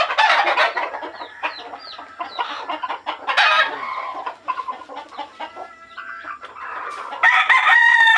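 Imported island-born Kelso and Hi Action gamefowl roosters crow repeatedly in a scratch pen, with overlapping crows and busy clucking from several birds, close and loud throughout with no talk.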